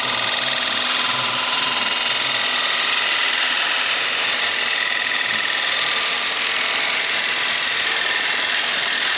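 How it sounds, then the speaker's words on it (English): A wood-turning gouge cuts a bowl on a spinning lathe with a loud, continuous, even roar and hiss of the tool edge riding the bevel through the wood, steady throughout. "bring the gouge around here like this, supported by the bevel, get the edge to engage the wood"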